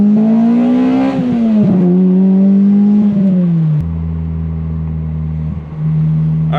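A Dodge Viper engine revs loudly, pitch climbing and dipping through several throttle blips before settling into a deep, steady idle rumble.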